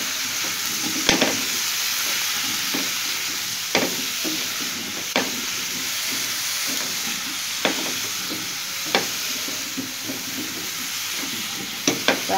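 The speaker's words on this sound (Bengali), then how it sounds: "আর দিলাম একটু হলুদ, আর এটাকে এখন নেড়ে দিব।" Cauliflower with salt and turmeric fries in a pan, a steady close sizzle broken by sharp spatula scrapes and taps every second or two.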